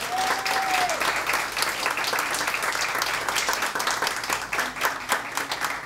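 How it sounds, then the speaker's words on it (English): Audience applause at a gospel showcase: a dense, sustained wash of many hands clapping, loud and steady for several seconds, with a brief vocal whoop near the start. "a big round of applause"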